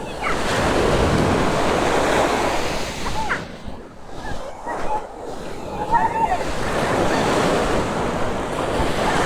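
Waves break and wash up on the shore at Lloret de Mar beach on the Costa Brava, a loud, steady surf roar with wind buffeting the microphone and a brief lull midway, people faintly audible nearby.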